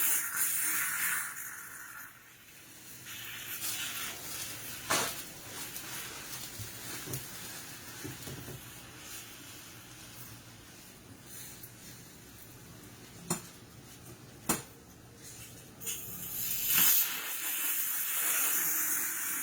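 A pressure cooker holding moong dal lets off steam in hissing bursts, stronger at the start and near the end, with faint clinks of pots between them and no talk.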